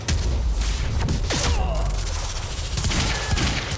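Gunfire in the video game Quantum Break: a close, dense barrage of overlapping shots and impacts that runs without a break, loud and harsh.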